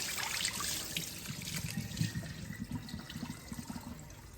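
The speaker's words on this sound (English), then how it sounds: "Now that we have our orzo off the stove, you can pour it into your strainer." Cooked orzo poured from the pot into a strainer, a steady watery splash and trickle of draining liquid close by with small clattering bursts, no talking.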